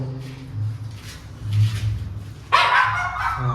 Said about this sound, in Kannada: ಈಗ ನಾಯಿ ಸುಮ್ಮನೆ ಕಿರ್ಚಾಡ್ತಾನೆ ಇರುತ್ತೆ